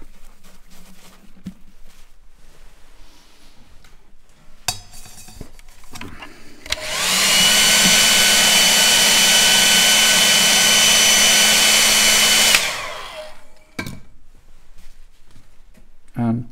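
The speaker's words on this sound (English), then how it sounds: "Now we dry the plate off." A hair dryer blows steadily on a freshly washed etching plate, a loud continuous rushing whoosh that holds for about six seconds before cutting off, with quieter handling noises around it.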